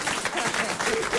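Brief burst of live audience applause at a French comedy joke show, a dense steady patter of many hands clapping at moderate loudness with faint murmuring underneath.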